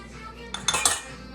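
A metal fork clinks and scrapes against a mug holding cake batter, a few quick close clatters lasting under a second, with no voices.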